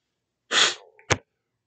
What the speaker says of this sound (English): Half of this video is going to be taken up and watching me sneeze.